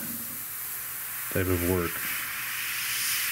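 A Gunze Mr Airbrush PS-770 sprays paint onto a model ejection seat's seatbelt at high pressure, making one short, close hiss of about half a second that stands out against a quiet background.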